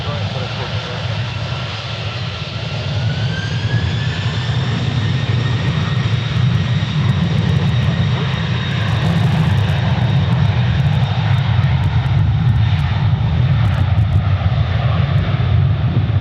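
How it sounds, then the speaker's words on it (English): Boeing 767 jet departing Memphis International Airport, a loud steady engine roar rising with a climbing whine as the aircraft passes and spools up, sustained throughout. "This 767 going to Miami."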